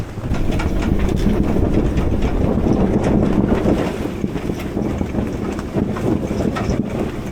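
Strong headwind blows across a sailboat at sea, a loud steady roar of wind buffeting the microphone with rushing water beneath it, sustained throughout and with no talk.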